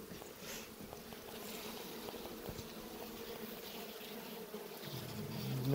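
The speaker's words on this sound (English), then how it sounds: "there's way too many bees in here" Honey bees in an open hive colony in midwinter Michigan make a continuous, close, low buzzing hum that stays steady throughout, with no talk over it.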